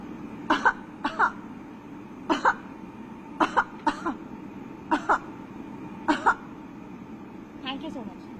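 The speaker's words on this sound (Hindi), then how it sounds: "आप इधर नीचे देखिए, खांसी करिएगा।" A person coughs on request in paired bursts, about five double coughs spaced evenly apart, fairly close and clear over a quiet room, recorded for a phone app that screens coughs for COVID-19.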